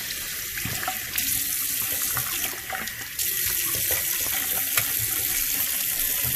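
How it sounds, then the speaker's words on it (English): Running tap water rinses a freshly cleaned household surface during a deep house clean, a steady close splashing flow lasting throughout with small shifts in intensity. "I'm gonna rinse it right now."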